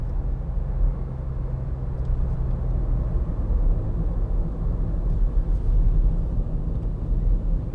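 A low, steady, buzzy three-cylinder engine drone and road rumble fill the cabin of a moving 2012 Volkswagen up! 1.0, constant and even throughout with no talking.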